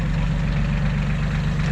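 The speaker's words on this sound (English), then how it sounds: "First time on a tractor." A tractor engine idles nearby with a steady low, throbbing chug and a regular pulsing rhythm, loud and even, with no talking.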